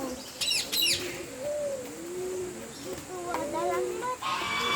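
Several birds call outdoors, with pigeon-like coos and bursts of sharp chirps from nearby, over a faint background murmur and a quiet voice.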